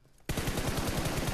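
PUBG Mobile gunfire on the Livik map: after a quiet moment, a sudden loud burst of rapid automatic fire starts and continues as evenly spaced, close shots.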